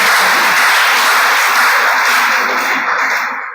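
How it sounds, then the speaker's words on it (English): An audience at a 2021 Nigerian legislative-stakeholders gathering claps for an introduced honourable guest, a sustained, even roar of many hands that holds steady and then begins to thin and fade near the end. "Please put your hands together."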